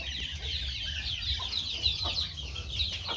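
Hen clucking steadily in a farmyard, a run of soft repeated clucks with other fowl nearby under a constant background hiss, no talk.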